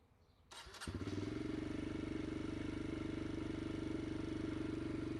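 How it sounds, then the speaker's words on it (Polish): A Kawasaki KLX 140RF dirt bike engine cranks and catches, then settles into a steady, fast, loud idle up close. "przyciskamy przycisk sprzęgła i go uruchamiamy."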